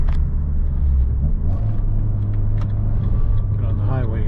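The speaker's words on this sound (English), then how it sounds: "Get on the highway here, give it a good" A 2013 Fiat 500 Abarth convertible with a five-speed manual gearbox accelerates onto a highway, its steady engine and road rumble heard from inside the cabin at a fairly loud level, with a voice talking over it.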